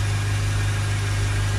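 A Ford Transit Custom 2.2 diesel van with an EGR valve fault idles close by, giving a steady low rumble with a constant hum that does not change.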